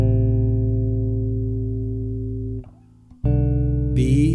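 Bass guitar playing tenth intervals as double stops, a sustained low two-note chord ringing clearly, then briefly cut off and restruck, with a faint scrape near the end.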